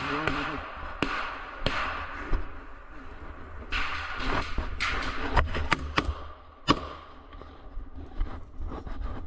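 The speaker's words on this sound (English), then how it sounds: "Gunfire in the distance." Sharp, scattered cracks of gunfire at a distance, irregular single shots and short bursts over a rumbling outdoor background.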